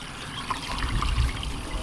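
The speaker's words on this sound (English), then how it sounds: "And you guys, water's coming, okay?" Water pours and trickles steadily into a farm water trough, a close, continuous splashing stream with no talk over it.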